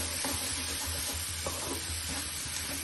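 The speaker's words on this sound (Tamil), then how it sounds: "எல்லாத்தையும் சேர்த்துட்டு நல்லா திருப்பி ஒரு 3-4 மினிட்ஸ் நல்லா வதக்கி விடணும்" Steady sizzling of vegetables sautéing in a pan for bonda filling, with occasional soft scraping from stirring; no voices.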